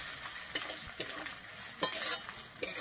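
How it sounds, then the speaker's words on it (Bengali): Cumin powder, turmeric and ginger being stirred in a hot frying pan: a steady close sizzle broken by quick scraping strokes of the spoon against the pan. "আমি জিরে গুঁড়ো আর হলুদটা দিয়ে একটু ভালোভাবে মিশিয়ে নিচ্ছি।"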